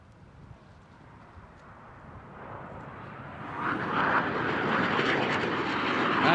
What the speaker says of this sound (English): Boom Supersonic's XB-1 passenger jet achieved a successful test flight